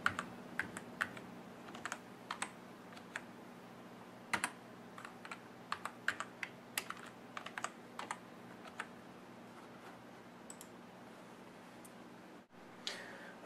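Keys clack on a computer keyboard as a password goes in, scattered quick taps in short bursts, close and quiet over a low steady hum.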